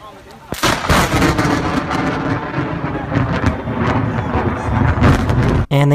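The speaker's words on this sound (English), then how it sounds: "they also got to experience what snow lightning is like" Thunder from rare snow lightning in Southern California booms and rumbles loudly, starting with a sharp crack and rolling on for several seconds amid wind buffeting the microphone.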